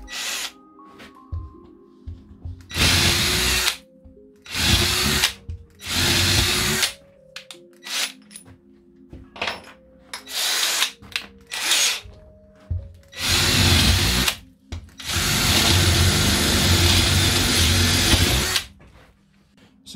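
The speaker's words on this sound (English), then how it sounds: "Let's drill a few holes. We're going to put this on the second speed." A Ryobi ONE+ cordless drill on second speed whines in repeated bursts of several seconds each, starting and stopping as it bores, with short quiet gaps between runs.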